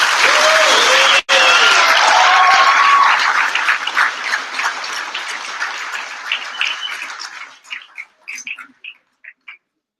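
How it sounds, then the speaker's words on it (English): Graduation audience applauding web development and e-concept graduates, a loud dense burst of clapping that holds steady for several seconds, then thins into scattered separate claps before fading out. "a huge round of applause for the e-concept developers"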